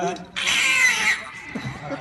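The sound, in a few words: person imitating a cat meowing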